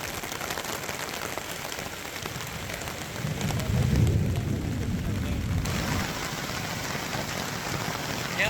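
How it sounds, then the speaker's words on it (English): Heavy rain drums steadily on a tarp over a riverside campsite during a thunderstorm, with a low rolling rumble of thunder swelling in the middle and fading under the constant downpour. "A lot of rain and thunder"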